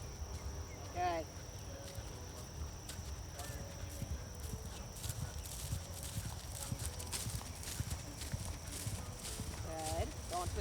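Rhythmic hoofbeats of a horse trotting and cantering during field flatwork, moderately close and steady throughout, with occasional snorts and faint insect chirps in the background.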